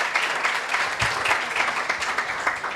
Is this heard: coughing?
no